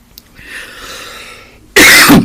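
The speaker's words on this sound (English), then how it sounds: "Shows it's natural because I'm coughing here." A person coughs once, close and loud, a sharp burst near the end that follows a stretch of quiet background hum.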